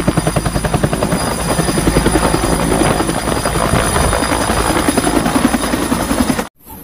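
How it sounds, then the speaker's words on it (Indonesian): A toy army helicopter whirs loudly and nearby with a steady pulsing rotor buzz for about six seconds, then cuts off abruptly. "Ada helikopter tentara."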